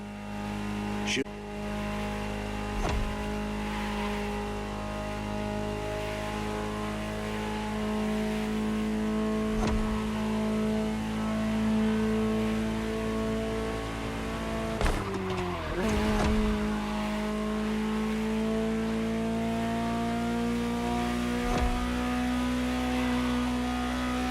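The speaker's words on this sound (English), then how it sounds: "Just listen to the car you're driving" A Ferrari engine in the video game The Crew Motorfest revs and climbs through gears, with sharp shifts and tire squeal, loud and close, over faint talk.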